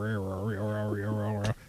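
A voice imitates an electric wheelchair moving, a steady droning hum that wavers in pitch and stays close and loud, then breaks off sharply near the end.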